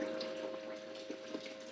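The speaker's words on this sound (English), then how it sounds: "There's my water flow. That's about how I like to run the Miller table," Water runs over a Miller table used for prospecting gold, with a steady, close splashing flow and faint trickles, no talking.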